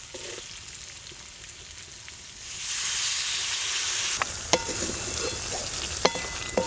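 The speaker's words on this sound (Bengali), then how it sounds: "এবার একটু জল দিয়ে দেবো" Water poured into a hot pan of green chillies for a potato and cauliflower samosa filling: a quiet, low stretch, then a sudden loud hissing sizzle that keeps going, with a few sharp utensil clicks.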